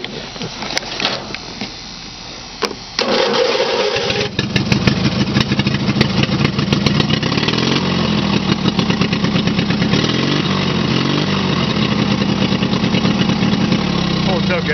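A Scotts lawn mower's Briggs & Stratton V-twin engine running with no muffler catches after a few seconds, then holds a loud, raw, steady two-cylinder rumble up close.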